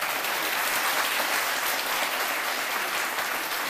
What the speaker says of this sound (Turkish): Vallahi bir alkış da Çorum'la gelsin.